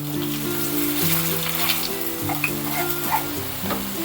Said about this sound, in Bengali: সবকটা এরকম উল্টে দিয়ে আমি সুন্দর করে ভেজে নেবো বন্ধুরা।